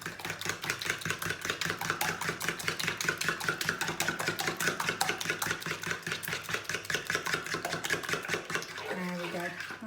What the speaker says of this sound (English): I'm just going to give that a little whisk together.